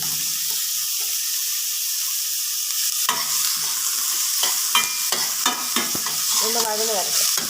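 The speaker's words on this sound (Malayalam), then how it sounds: "സവാള ഏകദേശം വഴന്ന് വന്നിട്ടുണ്ട്" Onions sautéing in oil with salt and ginger-garlic paste, a steady close sizzle with intermittent scraping stirs growing busier toward the end.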